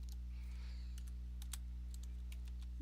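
Quick keystrokes on a computer keyboard while entering commands in Windows PowerShell, a run of light, close clicks over a steady low electrical hum, no talking.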